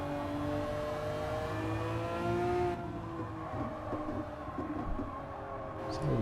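Race car coasting on track in Gran Turismo 7, a loud droning engine tone that drops off abruptly partway through into a lower rumbling roll, with no talking.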